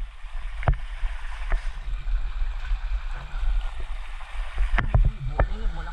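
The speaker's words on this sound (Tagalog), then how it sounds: "malakas yung alon" Flood water surges and sloshes around a person wading through a deep, flooded town street, with a steady rushing wash, broad low rumble and a few sharp splashes near the end, all close by; no talk.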